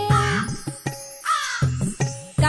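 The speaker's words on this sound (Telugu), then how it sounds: "కాకి కాకి కడవల కాకి" A crow caws loudly and harshly five or six times in quick uneven bursts, heard close and alone as part of a Telugu children's rhyme.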